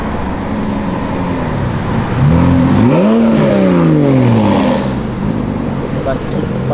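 A Lamborghini Huracan's engine roars and revs as it speeds past close by, its pitch rising and falling, with road noise before and after.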